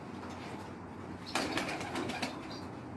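Pigeons flap their wings in a short burst of rapid beats close by, with faint low background murmur before and after.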